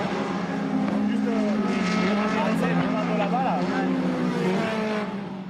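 A race car on a drying circuit accelerates in a loud, sustained engine roar with rising pitch sweeps, while a voice talks over it.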